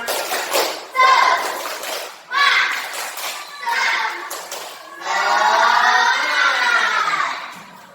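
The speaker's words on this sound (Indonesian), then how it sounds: "Tepuk semangat" Schoolchildren in a classroom repeating the tepuk semangat clapping chant, several loud group bursts of chanting and clapping, ending in a long sustained shout of voices together.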